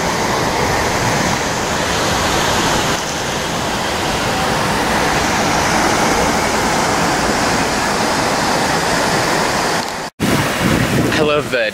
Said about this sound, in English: The dancing water fountains up here by Imagination and the Image Works theaters.